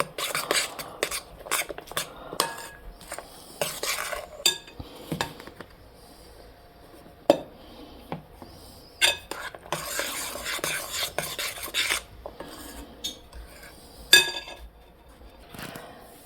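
Banana bread batter with baking powder mixed in a bowl makes repeated close scraping and clinking strokes of a utensil against the bowl in an uneven rhythm, with brief pauses between bursts.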